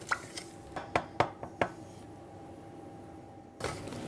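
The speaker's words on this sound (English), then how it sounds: "And now you just tip in the sugar." Demerara sugar tipped into a saucepan of melted butter on medium heat, giving a series of sharp metallic clinks and scrapes against the pan, then a quieter stretch and a soft rustling swell at the end.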